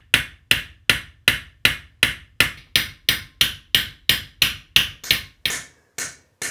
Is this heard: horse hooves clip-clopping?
no